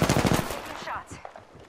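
Rapid automatic gunfire in Apex Legends, a loud close burst of quick shots over the first half second, then fading echoes and scattered smaller sounds.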